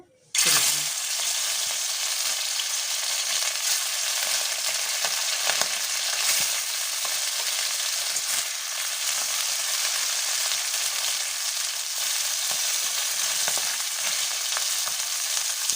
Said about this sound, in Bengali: মাছগুলো আমি হালকা করে ভেজে নেবো